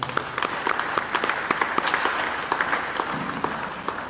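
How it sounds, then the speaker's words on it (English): Steady applause from a crowd at a fundraising seminar and dinner, with dense clapping sustained throughout at a moderate level, no voices standing out. "Please let's give him a round of applause."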